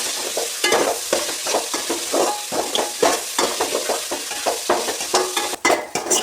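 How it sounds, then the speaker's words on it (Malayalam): Onion, garlic, ginger and curry leaves sauté in a pan for a chicken curry, a loud close sizzle broken by constant scraping stirs and clattering strokes in a quick irregular rhythm, with no talking. "അപ്പോൾ നമ്മുടെ സവാളയും വെളുത്തുള്ളി ഇഞ്ചിയൊക്കെ നല്ലോണം വഴന്ന് റെഡിയായി വെക്കും കേട്ടോ."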